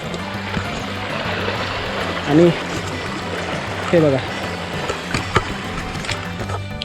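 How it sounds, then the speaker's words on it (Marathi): A murmuring stream flows steadily and close by, with a continuous rushing wash of water. A voice speaks briefly over it. "हे बघा झुळझुळणारं पाणी"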